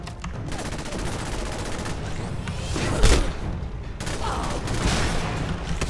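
Shotgun fire in the video game Fallout 4: a dense, continuous stretch of game combat with overlapping gunshots and a heavier boom near the middle, all at steady loudness with the blasts running together.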